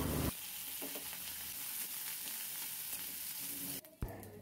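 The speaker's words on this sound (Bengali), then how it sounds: "পেঁয়াজ কুচিটাকে অনেকক্ষণ আমি ব্রাউন করে ভাজবো" Chopped onion fries in a pan with a loud, continuous sizzle and occasional stirring scrapes, then the sizzle cuts off abruptly near the end.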